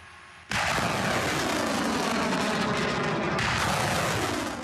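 A loud, sustained roar of artillery firing shells erupts suddenly and continues without a break, with a second surge partway through.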